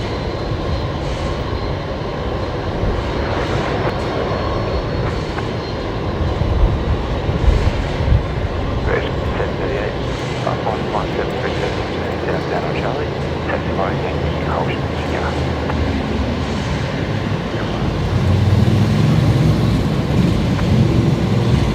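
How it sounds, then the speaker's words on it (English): A pink Fokker 70 airliner taxis at Brisbane Airport, its steady broadband jet rumble filling the scene at moderate distance, swelling slightly toward the end, with voices talking over it. "there's the pink Fokker 70 taxiing out"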